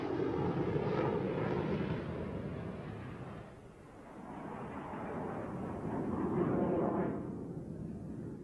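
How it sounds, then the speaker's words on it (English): Lockheed F-104 Starfighter jet on its first takeoff down a runway: a loud, sustained broadband engine roar that swells, dips briefly midway, then builds again, with no voices. "he then started down the runway and lifted the 104 into the air for the first time"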